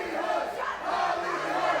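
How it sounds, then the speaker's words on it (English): A wrestling crowd at a Juggalo Championship Wrestling event chants in unison, a loud, sustained roar of many voices filling the arena. "Crowd chanting Hollywood for the Bugetto one, Haley J."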